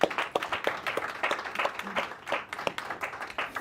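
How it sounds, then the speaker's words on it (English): Applause for panelists at the close of a conference session on small-scale bio-CHP energy, a modest audience clapping in distinct, uneven individual claps that stay moderately loud throughout. "I think we can close a big applause for our panelists."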